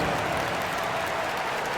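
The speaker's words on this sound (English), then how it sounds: "Give yourself a round of applause." Crowd applause during an NBA basketball game against the Pistons, a dense steady wash of clapping filling the arena with no pauses.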